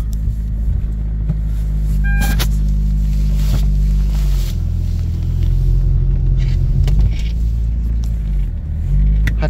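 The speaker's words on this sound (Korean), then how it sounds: "타이어가 얼어서 이런 소리가 난다." A car rolling on frozen, hardened summer tires in winter, a loud continuous low rumble and drone of engine and road noise with brief higher squeaks, steady throughout.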